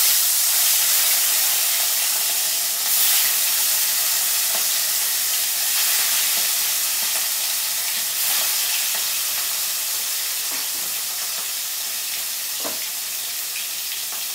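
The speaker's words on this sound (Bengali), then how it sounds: "আমার তেল গরম হয়ে গেছে। এবার আমি মাছটা ভেজে নেব।" Fish frying in hot oil that has been seasoned with black cumin, a loud, dense hiss of steady sizzling that stays close and fades slightly toward the end, with no voices.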